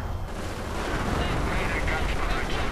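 Hummel self-propelled artillery bombardment in a World War II strategy game: a continuous heavy rumble of distant shelling and blasts runs throughout, with a voice talking over it.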